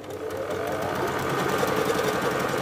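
A sewing machine sews fabric for a zippered pouch with optional lace trim, a steady close whirring hum with quick rhythmic needle clatter running continuously throughout, with no voices over it.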